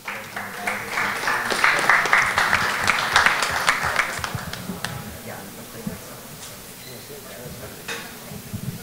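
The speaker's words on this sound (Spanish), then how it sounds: "El aplauso una vez más a este gran campeón, Bernard Hopkins." An audience at a boxing press conference applauds a champion, with crowd clapping swelling in the first seconds and then tapering into scattered claps and room murmur.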